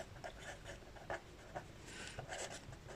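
A ball pen scratches across paper as numbers are written out, giving a soft, close rasp broken into short strokes and taps over a quiet background.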